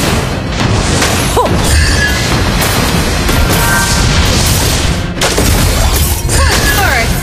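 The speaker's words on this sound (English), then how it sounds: "You destroy the turret!" Turret destroyed during a Mobile Legends: Bang Bang ranked match, a dense wash of booming, crashing and shattering game effects that stays loud throughout, with bursts of skill sounds layered over it.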